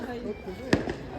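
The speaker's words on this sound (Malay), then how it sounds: "Nak tengok bunga api dengan crush." Single firework bursting during Hari Raya celebrations at a family home, one sharp crack followed by a fainter second pop, heard against chatter and background voices.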